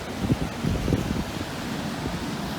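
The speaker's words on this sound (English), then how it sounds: "The waves don't seem to be too bad as of yet." Ocean waves wash steadily onto a beach in a continuous broad rush, with wind buffeting the microphone and no talking.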